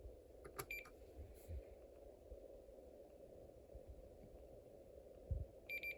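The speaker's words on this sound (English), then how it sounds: "you'll hear a beeping sound" A Snap Circuits alarm recorder gives two brief, faint electronic beeps, one near the start and one at the end, over a low steady hum.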